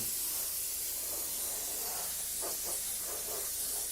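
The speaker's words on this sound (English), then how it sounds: "But we just spray this on" A steady, close hiss of base coat paint sprayed onto a model runs throughout, broad and even, with faint soft bumps underneath and no voices.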